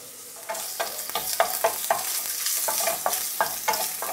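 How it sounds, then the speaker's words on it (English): Prawns sizzle loudly in butter in a hot pan, with repeated scraping and stirring strokes over the steady frying hiss. "When it's sizzling away, I'm going to throw in my prawns."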